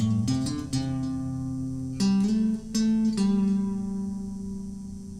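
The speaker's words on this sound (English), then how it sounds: "So the whole first part of the intro sounds like this." An acoustic guitar plays the first part of the intro to a song: plucked single notes with hammer-ons and pull-offs ring close and clear, sustaining between picks, with no voice.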